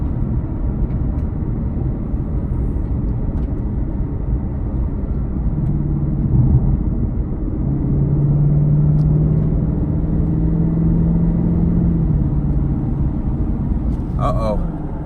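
A 2020 Ford Shelby GT500's V8 rumbles steadily from inside the car while driving, with a low drone that swells and holds mid-way.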